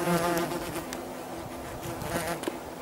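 Yellowjacket wasps swarm close around a piece of meat, a dense steady buzz of many wings with individual insects whining louder as they pass near, continuous and alone for a few seconds.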